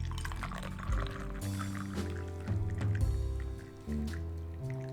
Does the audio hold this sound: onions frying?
no